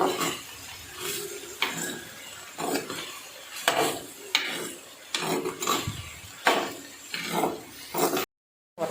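Chopped breadfruit (sheemachakka) is stirred in a cooking pan, making a steady series of close scraping and clattering strokes, each followed by a quiet pause, before the sound cuts off briefly near the end.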